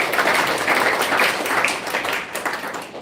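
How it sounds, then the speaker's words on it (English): A crowd at a farming community event claps steadily for a woman's achievement, a dense and even patter that carries on without a break. "I think we should give her a big clap for that."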